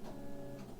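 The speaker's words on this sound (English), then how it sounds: "the printer just went off behind me" An office printer runs behind a person, giving a faint, steady mechanical whir with a low hum and a soft rising pulse near the end, distant and quiet.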